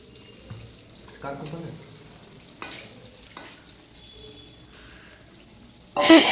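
Leg pieces of chicken for biryani cook in a pan, a soft sizzle with a few stirring clatters, scattered voices in the background, and a louder burst of splashing or scraping at the very end.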